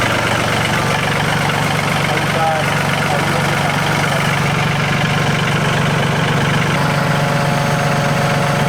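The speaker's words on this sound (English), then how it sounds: "Alex, let the forks down more." A forklift engine idles steadily throughout as its forks are lowered, a continuous mid-to-low rumble with light vibration that holds loud and even for the whole stretch.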